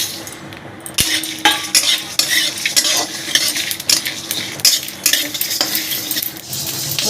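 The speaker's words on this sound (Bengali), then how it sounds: "মশলাটা ভাজা ভাজা হয়ে এসছে," Dried red chillies and whole spices dry-roast in a kadai, with a spoon stirring and scraping against the metal in irregular clinks and rasps over a soft crackle.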